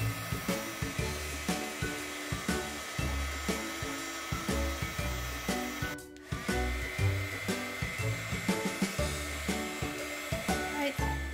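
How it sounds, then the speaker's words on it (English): A heat gun blows steadily over a resin-filled seashell ring dish, a continuous whooshing hum that pulses slightly as it is moved, briefly dropping out for a moment midway. "And then blow it out with a heat gun."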